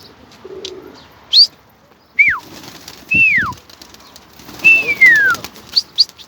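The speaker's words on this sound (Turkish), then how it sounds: "Sizin için şöyle kuşları bir havalandıralım istiyorsunuz arkadaşlar." Pigeons flutter and call in several separate bursts, with sharp chirps and sweeping whistled notes, a soft low coo and brief flapping, close by and otherwise fairly quiet.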